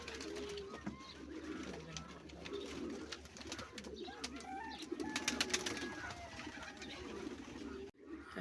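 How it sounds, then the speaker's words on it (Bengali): White pigeons cooing softly in a loft, low murmuring coos blending with scattered chirps and rustling over a steady background hum. "আমাদের সাদা কবুতরগুলো অনেক ভালো লাগে"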